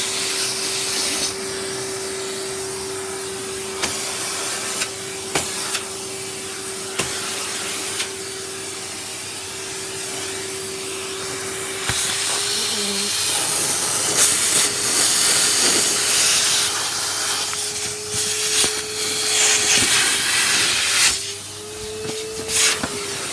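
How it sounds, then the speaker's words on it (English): A household vacuum cleaner runs continuously with a steady whooshing roar and a constant motor hum, getting louder and harsher midway as suction changes, with occasional knocks and bumps. "That's it, I think, for the vacuuming for tonight."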